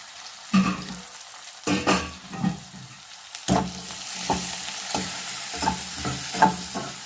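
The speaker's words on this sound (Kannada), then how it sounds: "ಈರುಳ್ಳಿ ಹಾಕ್ತಾಯಿದ್ದೀನಿ. ಸಾಸಿವೆ, ಜೀರಿಗೆ, ಅರಿಶಿನ" Onion, mustard seeds, cumin and turmeric frying in a pan and being stirred, with repeated scraping strokes at an uneven rhythm over a soft, steady sizzle, close up and with no voices.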